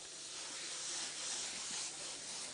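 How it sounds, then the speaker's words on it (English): Spray paint hisses in a faint, continuous stream while a flame paint effect is laid down, a soft airy rush heard alone without speech. "I can spray at different angles to get a desired effect I want."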